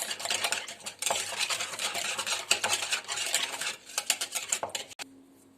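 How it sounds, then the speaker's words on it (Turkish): Egg yolks whisked in a bowl with lemon zest and juice, a close, busy scraping and tapping of the whisk that runs continuously, then stops abruptly. "buraya 3 yumurta sarısı, 2 limon kabuğu ve suyunu karıştırıyoruz burada. Güzelce çırpıyoruz."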